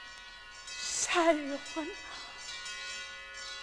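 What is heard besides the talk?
bells ringing in celebration of victory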